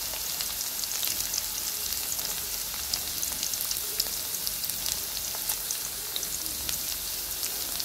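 Chopped carrot hits a hot oiled pan for vegetable Maggi noodles, giving a steady, even sizzle and crackle that continues alone throughout.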